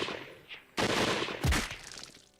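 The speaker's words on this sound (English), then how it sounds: "The air exploded with gunfire." A volley of rifle fire from a line of Imperial riflemen bursts out loud and close, a dense crackling barrage followed by a second heavy blast that tails off into echoing rumble.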